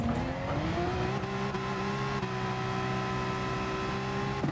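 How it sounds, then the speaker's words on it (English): Sim racing car engine in GT Sport revving hard with steady high pitch while tires spin on a rain-soaked track, continuous and loud with slight pitch shifts, no talking. "A lot of revving because the tires are consistently spinning"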